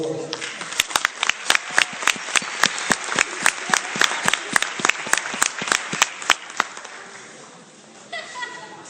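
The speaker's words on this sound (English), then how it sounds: "Give Mr. Parker a hand there." Enthusiastic applause from a school Black History program audience, steady clapping with a few sharper claps standing out, lasting several seconds before tapering off near the end.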